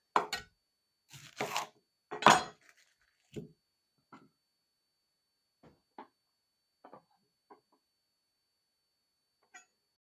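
Knife chopping a red onion on a board for shrimp ceviche: a few loud cuts at the start, then sparse, fainter taps with long quiet gaps.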